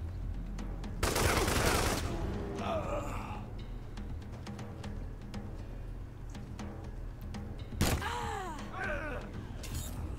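Gunfire from the video game Wasteland 3: a loud burst of shots in the first seconds, then a second sharp shot near the end, over a steady game ambience.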